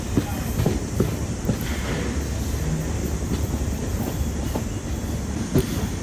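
Train No. 16337 from Okha to Ernakulam rumbles along its tracks with repeated clickety-clack beats from the wheels, a steady moderate rattle throughout.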